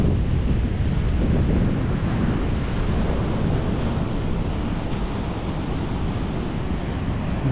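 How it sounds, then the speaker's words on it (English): Rough ocean surf pounding a rocky shore where mussels grow, with a dense, continuous roar of breaking waves and gusting wind buffeting the microphone throughout. "You can see how rough that ocean is."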